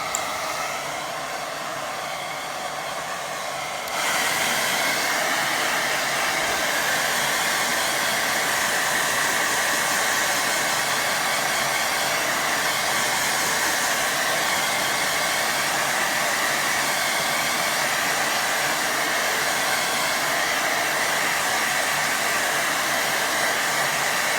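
A hair dryer blows onto a wet watercolour painting. It starts a few seconds in with a loud, steady, close-up roar that continues unbroken to the end, and no one speaks.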